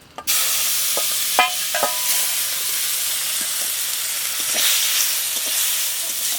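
Fish fat melting and frying in a hot wok, with grass carp fat and oil; a steady loud sizzle and hiss fills the whole stretch, with a few scraping clicks of stirring near the start.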